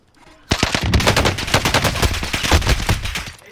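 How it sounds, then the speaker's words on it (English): Rapid bursts of automatic gunfire from a video game, loud and close, with shots overlapping in a fast, steady stream after a brief quiet start. "Taking shots over here"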